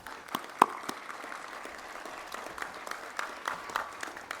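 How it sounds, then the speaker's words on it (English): Audience applause at a ribbon cutting ceremony for a technical education center, a thin, scattered patter of claps with a few sharper individual hits, moderately distant and fairly quiet, no voices over it. "our young people deserve a round of applause"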